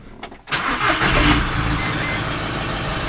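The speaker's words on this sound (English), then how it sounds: "let's just give the van a wee bit of a start up" A van engine cranks briefly and catches, then settles into a steady, loud idle close by, with no talk over it.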